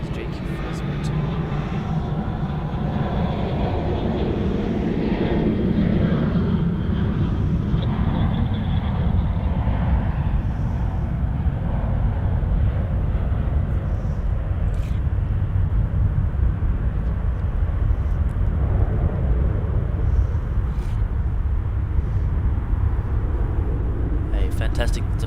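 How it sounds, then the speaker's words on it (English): A Jetstar airliner on departure from Sydney Airport bound for the Gold Coast, heard as a steady broad jet engine roar that holds loud and constant throughout, with a commentator talking over it. "Fantastic departure there, off to Gold Coast."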